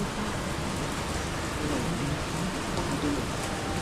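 Steady rain falls as a constant, even hiss that fills the whole clip with no pauses.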